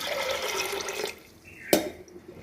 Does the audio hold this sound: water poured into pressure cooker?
yes